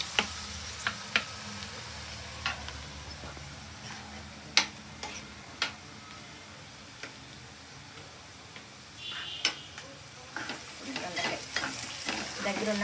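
Ivy gourd (dondakaya) frying in oil in a pan, a continuous soft sizzle punctuated by sharp clicks and scrapes of a spatula stirring, with a busier burst of stirring toward the end.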